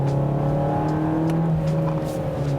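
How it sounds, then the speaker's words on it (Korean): A Kia K5 four-cylinder engine under full-throttle acceleration gives a steady, close, droning whir that holds a constant strained tone throughout with no voices. "가속 페달을 끝까지 밟았을 때 소리는 어쨌든 이 차는 4기통이고 그 4기통 엔진이 그렇게 썩 힘이 넘치지도 않잖아요."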